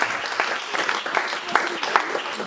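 A church congregation claps in a dense, continuous round of applause, with voices mixed in under the clapping.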